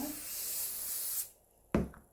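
Hair spray hisses steadily onto a styled hairdo for about a second, close and loud, then cuts off and is followed by a short knock or rub.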